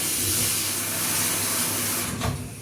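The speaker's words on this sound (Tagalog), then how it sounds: "Teka lang. Kumukulo na eh." Steady broadband hiss and rumble of a pot of water at a rolling boil for boiling eggs, continuous and close, with a brief surge of bubbling near the end.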